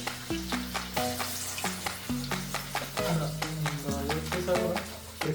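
Chicken kebabs deep-fry in hot oil with a continuous crackling sizzle, heard under rhythmic background music with a strong bass line.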